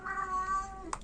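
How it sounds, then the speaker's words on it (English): A house cat lets out one drawn-out, close meow lasting under a second, with a small clatter right after. "my cat is gonna be meowing."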